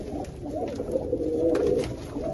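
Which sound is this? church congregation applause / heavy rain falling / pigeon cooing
pigeon cooing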